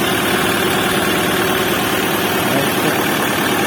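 A KENTAVR 404S tractor engine idles steadily after starting, a loud, even diesel rumble with constant vibration filling the whole stretch and no voices.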